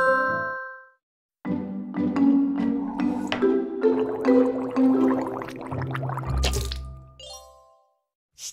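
Cartoon gurgling and rinsing from a water cup in the children's video game Caillou Gute Nacht, a bubbly burst of plops and tinkling chimes ending in a splashy spit, with no talking.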